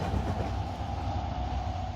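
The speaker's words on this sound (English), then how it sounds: "put our gondola on this, and then collect our 3 wagons before pulling the whole train clear" Wagons rolling during shunting in the Trainz: A New Era railway game on an Inglenook puzzle, a steady low rumble with soft rhythmic wheel clatter at moderate volume, no speech.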